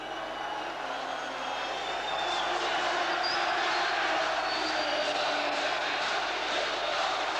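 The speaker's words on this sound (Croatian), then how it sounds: "Publika koje su se možda i pribojavali ovdje je sjajna, izuzetno lijepo, korektno, pošteno navija za svoje" Crowd at a Yugoslav Cup basketball semifinal between KK Alkar and KK Zadar cheering for their team, a dense, continuous roar filling the arena that swells slightly partway through.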